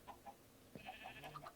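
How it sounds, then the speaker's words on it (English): Faint, distant sheep bleats in Minecraft, a few short wavering calls spaced apart against quiet background ambience. "Maybe it was a sheep."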